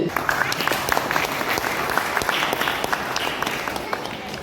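Audience applause fills a hall at an anniversary honour ceremony of a Konkan theatre organisation. The clapping is dense and sustained, with sharp individual claps throughout and faint voices mixed in.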